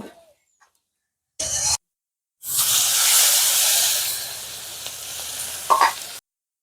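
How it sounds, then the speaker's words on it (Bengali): Tilapia fish fries in oil: after a short burst of noise and silence, a loud sustained sizzle swells for several seconds, then settles into softer crackling before cutting off. "বাকি মাছটাও ভেজে নেব"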